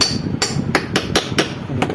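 Hammer tapping on a desert cooler motor, a steady run of about eight sharp, close metallic knocks spaced roughly a quarter second apart over a low background rumble.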